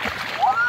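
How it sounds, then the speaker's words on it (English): A person cannonballs into a backyard swimming pool, throwing up a short, bright rush of splashing water that settles into a lingering whoosh, close by and fairly loud, with voices around it. "That was a big splash."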